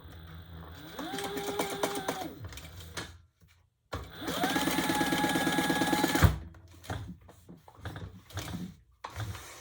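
A sewing machine top stitches a folded travel pouch pocket in two bursts, each running a couple of seconds, with a steady motor whine, separated by a brief pause and followed by quieter handling noises.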